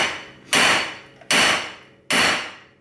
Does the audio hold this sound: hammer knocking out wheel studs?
yes